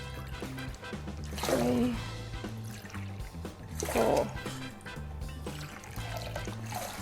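Five cups of water poured one at a time into a cooking pot for boiling mung beans, each pour a short splashing burst, with a voice counting along over background music.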